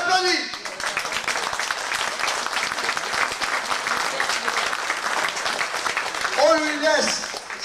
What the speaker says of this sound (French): Le voici, on l'applaudit.